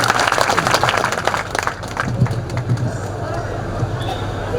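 An outdoor crowd claps and cheers to welcome Matu Bhai at a rally on the Bhim Rudan Yatra at Nanidevati, loud applause fading into a softer patter while someone speaks over it.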